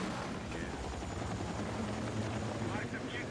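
Helicopter rotors drone continuously in the video game Battlefield, a thick, loud whirring wash mixed with distant gunfire and battle noise, with a player talking over it.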